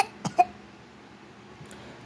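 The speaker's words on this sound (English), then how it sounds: "Still coughing?" A young child's short coughs at bedtime, two quick faint hacks close together followed by a softer one, in a quiet room.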